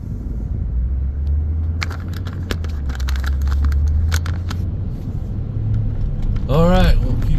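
A car drives along a rural road near Okanogan, Washington, heard from inside as a steady low rumble with road noise while people talk over it.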